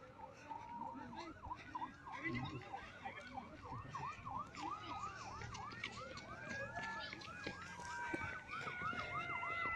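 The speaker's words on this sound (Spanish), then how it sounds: "se escuchan sirenas" Several emergency sirens wail continuously at the scene of a fuel pipeline explosion, overlapping rising and falling tones at moderate distance, with voices and crowd noise mixed in.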